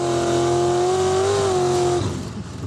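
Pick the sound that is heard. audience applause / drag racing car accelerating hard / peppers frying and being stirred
drag racing car accelerating hard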